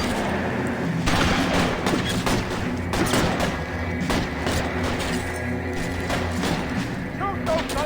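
Rapid bursts of gunfire in the LA Noire video game, repeated shots and booms crackling over a tense background with voices talking.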